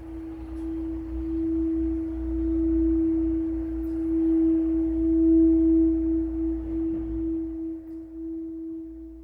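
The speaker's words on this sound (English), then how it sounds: "I'll use this sonic wand and Hannah has hers." A sonic wand used for sound healing rings a steady, pure humming tone continuously with a low droning undertone, sustained and fairly loud throughout.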